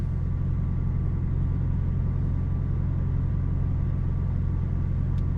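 Steady low rumble of a 2025 Toyota Tacoma engine idling, heard from inside the cabin, an even drone with no revving and no voices.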